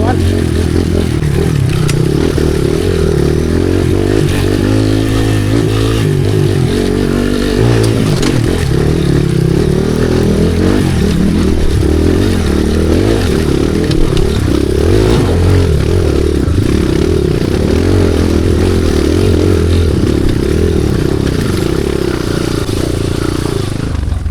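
A motorcycle engine runs loudly and continuously on a rocky road in Arakan, with rough mechanical rumble and some clattering, steady throughout with no clear pauses.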